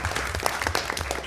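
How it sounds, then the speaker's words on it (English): Audience at a KBE meeting clapping for a presenter, a brief dense patter of many hands, moderately loud and close, with no talking over it. "More clapping."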